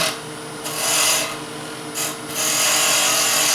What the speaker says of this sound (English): Take a little material off here so we can work around.